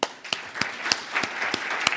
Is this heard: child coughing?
no